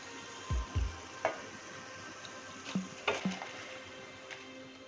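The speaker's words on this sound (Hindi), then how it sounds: "इसे दूसरे बर्तन में निकाल लेंगे और उसके बाद जो बाकी हैं उन्हें भी फ्राई कर लेंगे।" Snacks frying in hot oil in a home kitchen, a soft steady sizzle under a few sharper clinks and taps of a utensil against the pan, close and moderate, with no talking.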